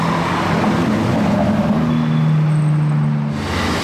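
A McLaren 720S sports car passes on a city street while carspotting, a loud, continuous engine roar with a rising and falling tone as it goes by.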